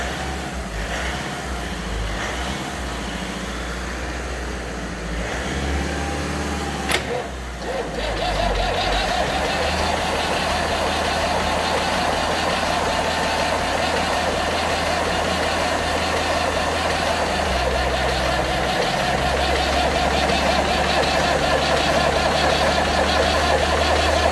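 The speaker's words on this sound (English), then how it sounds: "So I'm going to put some revs on the Passat." A Volkswagen Passat engine idles, then gets revved up and held at a higher pitch, the steady drone continuing close by with a brief click along the way.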